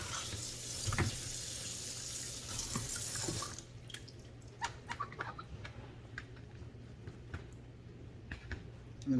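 Tap water runs over green and red peppers at a kitchen sink for the first few seconds, a steady rinsing hiss, then stops, leaving scattered drips and small knocks.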